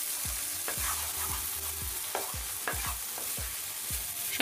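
Egg frying with meat and snake gourd in a pan, a spatula scraping and stirring in quick repeated strokes over a steady close sizzle, with no voices.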